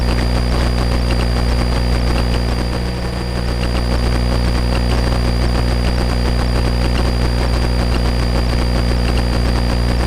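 Light aircraft engine, a Cessna 150 or RV-6 on short final approach, drones steadily and loudly from inside the cockpit with a constant tonal hum throughout.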